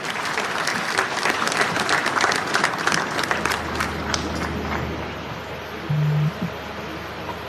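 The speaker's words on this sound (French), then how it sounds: "Merci de les applaudir encore une fois" Large crowd at a presidential swearing-in ceremony in Côte d'Ivoire applauding, dense sustained clapping that gradually thins, with a brief tone near the end.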